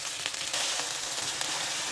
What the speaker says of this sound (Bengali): তেলের মধ্যে আমি আধা কাপ পরিমাণ পেঁয়াজ, 1 চামচ পরিমাণ আদা রসুন বাটা দিয়ে ভাজা ভাজা করে নিচ্ছি।